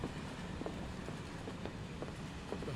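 Train running on rails in Final Fantasy 7 Remake, a steady low rumble with faint rhythmic clickety-clack of wheels, continuous and fairly quiet, with no voices.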